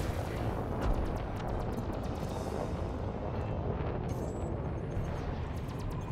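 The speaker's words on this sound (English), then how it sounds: "Jesus, they're firing missiles at me." Missiles detonate in Elite Dangerous space combat around a Beluga Liner, heard as a dense, steady roaring rumble with faint crackling ticks throughout, loud and without clear separate blasts.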